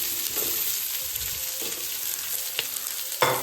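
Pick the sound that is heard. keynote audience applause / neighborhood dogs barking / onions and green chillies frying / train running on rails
onions and green chillies frying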